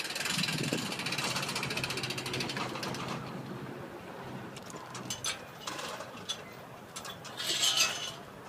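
A ratchet strap is tightened to tie down a rail speeder, with rapid mechanical clicking early on, then scattered ratchet clicks and a short buzzy burst, heard close over faint background noise.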